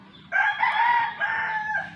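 A rooster crows loudly and close by, one long harmonic call that rises, dips briefly, then carries on to the end.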